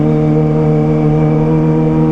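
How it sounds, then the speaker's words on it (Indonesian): A Kawasaki ZX25R motorcycle with a loud aftermarket exhaust idles and revs gently in a narrow alley, a close, steady high-pitched four-cylinder drone holding an even tone throughout. "Ada bocil-bocil minta geber. Kita geber pelan aja guys."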